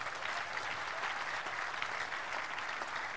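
A church congregation at a prophetic ground-breaking service claps in a dense, steady burst of applause that holds evenly throughout, with no speech over it.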